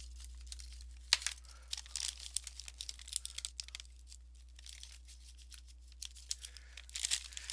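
A paper bag is folded over to make a recycled basket, giving close, dry crinkling and crumpling rustles in uneven bursts over a low steady hum, with no talking.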